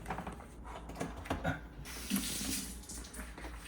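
Tap water runs steadily into a sink as parts of a Frigidaire countertop ice maker are rinsed, a continuous close splashing flow with shifting spatter as items move under the stream.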